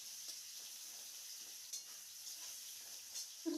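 Onions with salt are stirred in hot frying oil, making a faint, steady hiss of sizzling that runs throughout and ends in a short, louder clatter.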